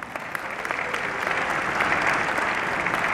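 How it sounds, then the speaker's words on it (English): A crowd applauds steadily at a mayoral swearing-in ceremony in the District of Columbia, the dense clapping swelling slightly and holding at a full, even level throughout. "Give yourselves a big round of applause."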